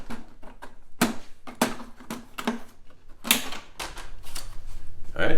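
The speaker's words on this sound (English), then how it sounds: "get your plastic pry tool and let's get this off" Plastic pry tool popping off a plastic trim panel on a Jeep Wrangler JL tailgate, with a run of sharp snaps and clicks at uneven intervals, close and moderately loud.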